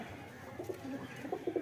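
Soft, low coos of a racing pigeon close by, a few short rounded calls repeating over quiet background noise.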